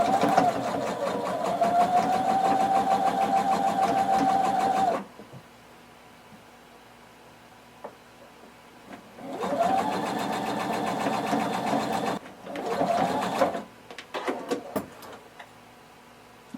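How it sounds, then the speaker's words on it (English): A sewing machine stitches close to the edge of a tank top dress hem in two long whirring runs and a shorter burst, with quiet pauses and small handling clicks in between. "you're going to stitch close to the edge across the back, and then you're going to do the same thing across the bottom."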